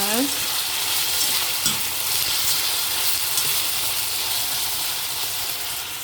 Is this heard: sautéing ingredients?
yes